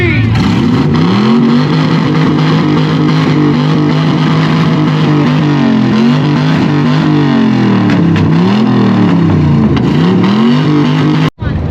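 A Corvette at a loud car show revving hard and continuously, a harsh, distorted engine roar rising and falling in pitch with repeated throttle blips, very loud and close.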